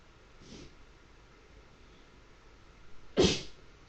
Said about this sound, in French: Faites pas attention à mes éternuements.